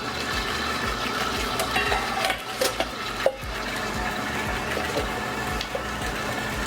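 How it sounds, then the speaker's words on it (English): Cookie batter and sugar for pink chocolate chip cookies are beaten until fluffy, a close, steady whirring mixer drone with a regular churning pulse and a couple of brief clunks midway. "Now we're gonna mix this for 3 to 4 minutes until it's nice and fluffy."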